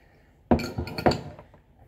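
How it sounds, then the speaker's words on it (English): A bottle opener pries the cap off a twist-top premium lager bottle, giving a sharp metallic clink followed by a second knock and a brief rattle, close and alone. "it's easy to use the bottle opener, in my opinion"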